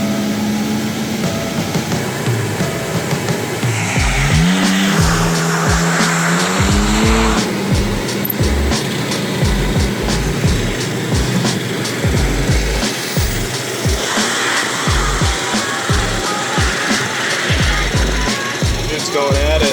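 A Can-Am off-road vehicle churns through mud in the Vegas desert after a flood, its engine revving and rising in pitch, then settling into a loud, rough, pulsing drone with rapid thumps and splashy bursts close by.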